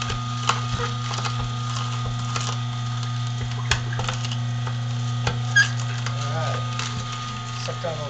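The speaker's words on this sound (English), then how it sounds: "Sucked on those carrots pretty good." An Omega 8003 juicer pressing carrots, a steady low mechanical hum with a faint whine running throughout, dotted with occasional soft crunching taps and clicks from the produce being fed in.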